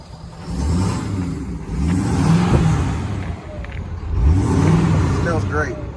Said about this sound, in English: Let's get a rev.